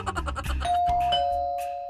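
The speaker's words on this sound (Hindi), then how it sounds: "सुनो, घंटी बजी।" An indoor doorbell in a home chimes a clear ding-dong, a bright sustained tone ringing out loud and close after some brief clattering noises.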